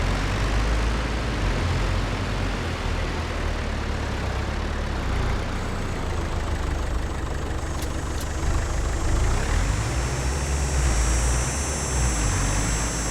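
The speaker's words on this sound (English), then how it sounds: "The way this tractor purrs, I just love it." A John Deere 710 tractor engine in Farming Simulator 22 drones steadily at a constant idle-like pitch for the whole stretch, loud and close, with no talking.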